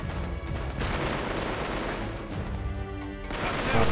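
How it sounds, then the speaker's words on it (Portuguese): Gunfire erupts in the video game Uncharted 3: Drake's Deception, dense overlapping shots and booms filling the whole stretch loudly alongside game music and effects. "Dando uns tiros ali."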